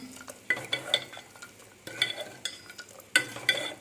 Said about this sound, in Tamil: உப்பு ஆட் பண்ணி நல்லா மிக்ஸ் பண்ணிக்கலாம்